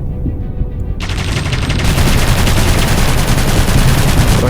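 Rapid, unbroken gunfire from aircraft guns in the historical flight game Aviators roars loud and steady for several seconds, growing denser partway through, with no talking.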